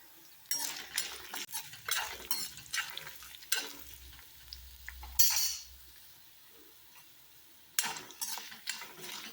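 Garlic and broken dried red chillies sautéing in a pan for lemon rice, with a spoon stirring and scraping against the metal in short bursts over a soft, steady sizzle.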